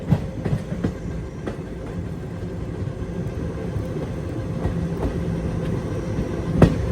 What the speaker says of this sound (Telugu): shunting locomotive